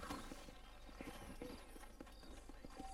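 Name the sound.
horse hooves in Red Dead Redemption video game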